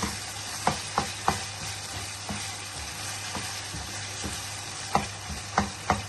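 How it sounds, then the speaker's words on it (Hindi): Kidney (gurda) masala stir-frying over high flame gives a low, steady sizzle, broken by sharp intermittent scrapes and clinks as the spatula stirs the pan. "इसको हमने तेज आंच पे हमने इसको भुनाई करनी है और इसको हिलाते रहना"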